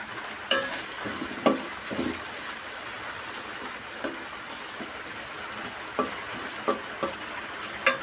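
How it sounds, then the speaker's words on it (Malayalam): Sliced onions frying in hot oil sizzle steadily up close, with occasional sharp spatters and stirring clicks punctuating the continuous hiss, no voices. "നമ്മളിത് ഈ വറുത്ത എണ്ണയിലാണ് നമ്മളിത് ഈ സവാള റെഡിയാക്കുന്നത്."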